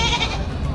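A goat bleats once, loud and close, in a brief wavering cry at the Padre Garcia livestock auction in Batangas.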